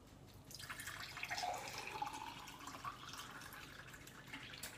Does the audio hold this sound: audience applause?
no